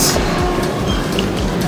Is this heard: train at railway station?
yes